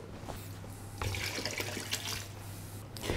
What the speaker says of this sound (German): Füllen wir das auf mit Wasser, wenigstens so weit, bis das Gemüse bedeckt ist.